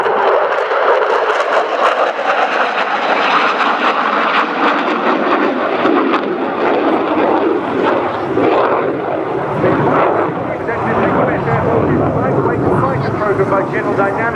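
F-16A fighter jet flying a low demonstration display at an air show, a loud continuous jet roar that swells and shifts in pitch as it passes, with a commentator talking over it throughout.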